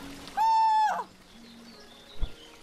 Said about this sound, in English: That was a loud caw.